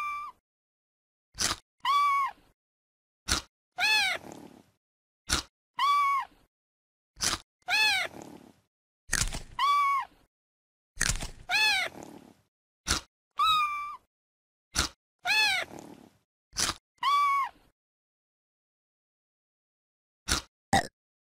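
A kitten in the CBeebies My Pet and Me video game meows again and again, with bright, clean synthetic calls coming in short bursts and separated by silent gaps, some close together and a few spaced far apart.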